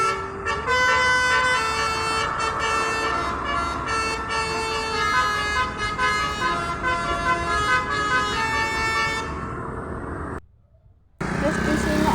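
Musical telolet horns (Basuri) blare from Indonesian tour buses, a loud sustained melodic toot of stacked tones playing a tune for about ten seconds, with crowd voices and street noise underneath, then a brief cutoff before the horn resumes.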